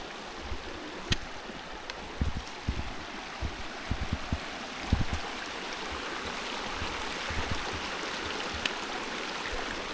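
A flowing creek at a trail crossing on Cave Creek in the Pecos Wilderness rushes with a continuous watery hiss, with low gurgles and splashes rising and falling close by.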